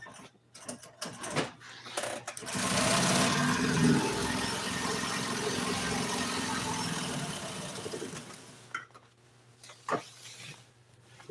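Upholstery sewing machine stitching a 1955 Chevy seat cover, starting after a few seconds of quiet handling and running steadily for about five seconds before stopping, with light clicks and movement before and after.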